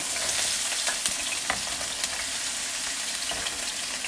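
Vegetables sizzle and crackle in hot extra virgin olive oil, a steady frying hiss with occasional stirring clicks, close by and without speech.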